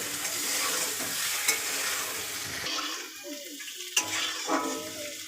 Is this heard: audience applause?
no